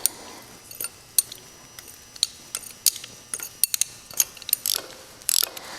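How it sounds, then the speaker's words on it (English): A hand ratchet clicks in quick irregular bursts while loosening the last intake manifold bolt on a Ford tractor engine during a head gasket job, close and crisp with short pauses between strokes. "I'm taking my last bolt off of the manifold here"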